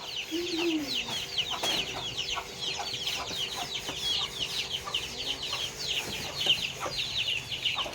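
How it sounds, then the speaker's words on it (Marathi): Several chickens cluck and chatter continuously nearby, with scattered bird calls overlapping in a busy farmyard background. "या कोंबड्या काय जात नाही का झोपायला आता?"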